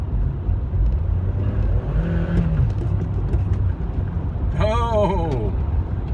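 Truck passing on the road heard from inside a car, a steady low engine and road rumble throughout, with a brief rising horn-like tonal blare near the end; the driver's voice is audible underneath.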